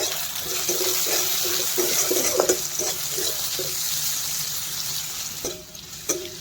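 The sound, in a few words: onions frying in oil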